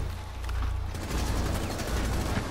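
Gunfire in the video game Rainbow Six Siege bursts out in a quick run of close, loud shots over a low rumble, with a brief quieter lead-in before the volley.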